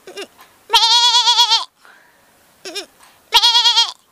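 A woman, a performer of animal and bird call imitations, mimics a goat with four close, wavering bleats, alternating short and long cries with brief pauses between them.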